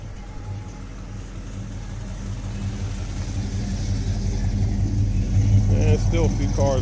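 Cars rolling slowly into an outdoor car show, one of them an older car, with a steady low engine rumble that swells toward the end under nearby chatter.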